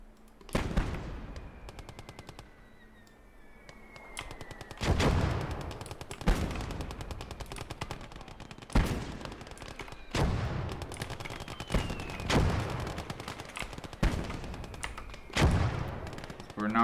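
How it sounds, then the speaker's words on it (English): Machine gun fire in the World War II strategy game Gates of Hell: Ostfront, Winter War setting, loud rattling bursts and sharp single shots repeating every second or two with ringing tails, under intermittent talk. "There's a machine gun there."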